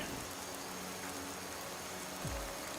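Gentle rain patters through the trees in Skyrim, a soft, even hiss of drops at low volume with a brief low thump near the end, no talking.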